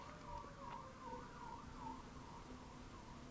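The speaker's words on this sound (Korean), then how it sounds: "사이렌 울리는 거 보니까" A siren wails faintly in the distance, a steady, looping rising-and-falling tone that repeats several times over a constant background hum, with no talking.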